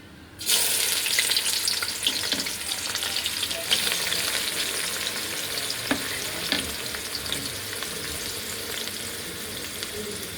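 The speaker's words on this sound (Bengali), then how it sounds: "পেঁয়াজগুলো একটু ভেজে নিই প্রথমে।" Onions fry in hot oil in a wok, a loud, steady, close sizzle that runs the whole time with occasional faint stirring clicks and no voices.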